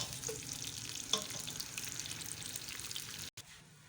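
Onions fry in a pan for tadka rice with a continuous, fairly quiet crackling sizzle, one small utensil tap, then a brief drop to silence before the sizzle resumes.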